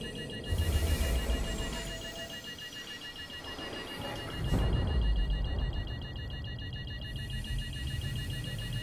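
A rapid, high-pitched beeping alarm sounds continuously aboard a ship in Star Citizen, its fast pulses steady over a low engine rumble that swells twice, with no talking.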